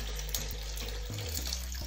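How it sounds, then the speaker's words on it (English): Running water from a tap splashes over soaked beans being rinsed by hand in a sink, a steady close wash with small irregular sloshes throughout. "So you just do the rinsing continually till you get what you want, okay?"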